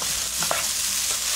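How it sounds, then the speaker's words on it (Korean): Carrots and green peppers stir-fried in a pan with little oil for japchae, a loud steady sizzle with a few scraping stirs, close and continuous with no talk. "당근과 피망은 이렇게 볶으시고요."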